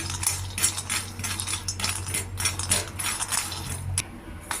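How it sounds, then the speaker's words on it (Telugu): Peanuts dry roasting in a pan give a steady, close rattle and clatter as the nuts shift and tumble against the metal, with sharp clicking bursts throughout and no talk. "ముందరగా మూకుడు పెట్టుకుని తీసుకున్న పల్లీలు డ్రైగా వేయించుకోవాలి"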